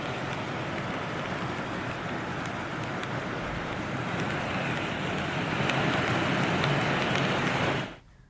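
Floodwater rushes at the overflowing Banjara dam, a steady, loud roar of churning water like heavy surf that holds without pause and cuts off abruptly near the end.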